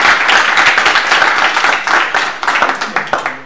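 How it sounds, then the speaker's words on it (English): An event audience breaks into brisk, lively applause with dense clapping that thins out into scattered claps near the end. "So I would like to ask you for a very big applause for what has been done so far."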